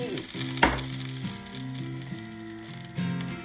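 Grilling over high heat with olive oil and rosemary, a steady frying sizzle running beneath light background music, with a sharp hiss burst near the start.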